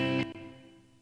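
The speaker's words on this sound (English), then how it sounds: "So you can hear over here the reverb decay over there" Reverb tail trailing off a keyboard chord in a studio mix, a loud sustained chord cutting off abruptly and then fading gradually.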